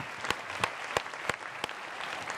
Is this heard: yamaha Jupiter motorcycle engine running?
no